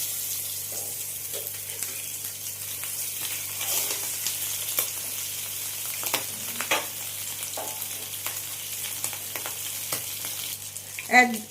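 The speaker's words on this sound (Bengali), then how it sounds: "এই 2 পিসও মাছ ভেজে নেব।" Pieces of surmai fish fry in hot oil in a pan with a steady, close sizzle, dotted with brief crackles and a louder spatter near the end.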